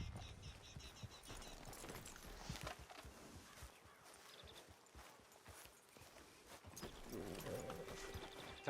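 Horse hooves clip-clop steadily at a walking pace in Red Dead Redemption 2, near and moderately loud over game ambience, with a faint voice at times.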